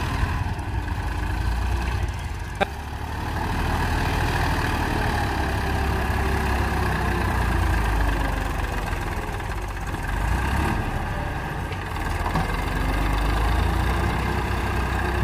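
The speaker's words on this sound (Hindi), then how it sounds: "पीछे जा रहा है ट्रैक्टर" A Massey Ferguson 241 tractor engine idles steadily with a low, rumbling drone, close by and continuous, with slight shifts in intensity and no talking.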